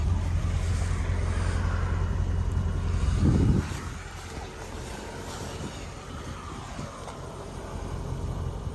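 A Mercedes-Benz SL55 AMG on Neomax coilovers, set to 20 in front and 15 in the rear, driving along with a steady engine and road roar plus wind buffeting, easing off partway through.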